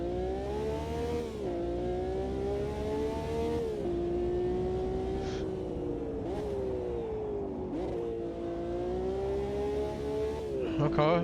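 A V12 Ferrari Formula One car in a VR racing sim on the 1971 Nordschleife drones loudly at a sustained high pitch, with slight rises and dips in revs as the rear tires spin and scrub.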